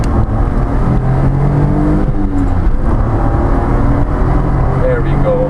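A 1988 Honda Acty SDX HA1 kei mini pickup truck with a custom flat bed pulls away, its small engine droning and whirring steadily up close from inside the cab while someone talks.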